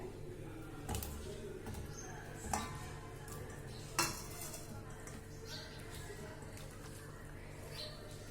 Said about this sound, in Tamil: இப்போ நான் சேனக்கிழங்க ஆட் பண்ணுறேன்